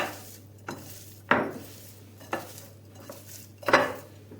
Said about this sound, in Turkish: Sonra tekrardan karıştırıyoruz.